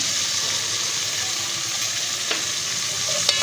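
Whole cinnamon and cloves sizzle and fry in hot oil for a cauliflower karahi, a steady crackling hiss with occasional sharper pops and a stirring scrape near the end.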